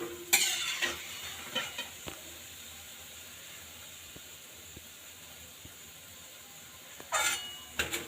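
Palm fruit fritters (taler bora) fry in oil with a low, steady sizzle, punctuated by a few scrapes and clinks of a utensil near the start and end.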